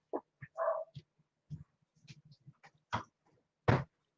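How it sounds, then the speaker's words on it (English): Dogs bark in scattered short bursts, several separate barks and a whine, fairly faint and somewhat distant, with quiet gaps between. "I got dogs barking."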